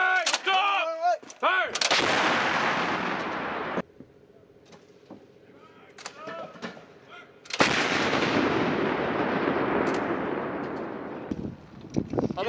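Artillery guns fire during a military training exercise at Fort Bragg, North Carolina: two long, loud booming blasts with rolling echoes, separated by a quieter stretch. A voice shouts orders before the first blast.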